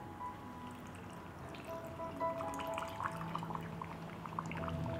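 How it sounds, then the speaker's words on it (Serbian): Salt water poured into a glass jar packed with cabbage, a steady, faint, gurgling trickle with rising tones as the jar fills, close by and without talk. "I sada ću teglu napuniti sa slanom vodom."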